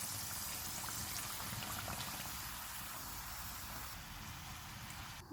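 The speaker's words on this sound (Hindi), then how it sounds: "इसी तरह से बाकी भी फ्राई कर लेंगे।" Potato sticks deep frying in hot oil, a dense continuous bubbling hiss that stays even and fairly quiet throughout, with no talking.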